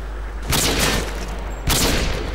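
Two loud sniper rifle shots in Call of Duty MW2, fired about a second apart, each a sharp blast with a short trailing decay, with no talking.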